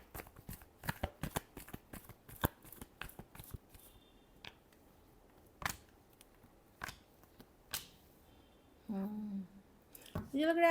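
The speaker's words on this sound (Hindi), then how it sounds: "last shuffle" Tarot cards are shuffled in quick crisp riffles during a reading, loud at first and then sparser with separate slaps. A voice briefly hums or speaks near the end.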